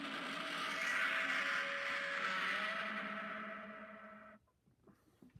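Godzilla's roar from the film Godzilla Minus One: a long, loud, reverberant bellow that holds steady for about four seconds, then cuts off abruptly, leaving only faint echoing tail.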